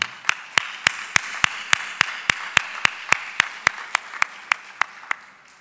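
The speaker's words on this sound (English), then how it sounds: "I suggest that we give them all a warm round of applause" Sharp, evenly spaced claps ring out one after another, about eighteen single distinct hits in a steady rhythm, loud and close, given for participating companies at an HVACR awards ceremony.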